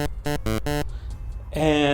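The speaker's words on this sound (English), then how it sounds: "the low percentage is gonna have a more kind of nasally sound like this" A buzzy, nasal low-percentage pulse-wave tone from the Magical 8-bit Plug 2 synth sounds in four short repeated pulses, then a pause with faint noise, then a brighter sustained note rises at the end.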